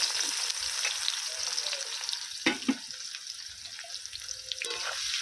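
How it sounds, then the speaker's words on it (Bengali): Chopped onions drop into hot oil left from frying potatoes for a mutton curry, giving a steady close sizzle with a few louder spattering bursts and light stirring scrapes. "এই তেলের মধ্যেই দিয়ে দিচ্ছি কেটে রাখা পেঁয়াজ"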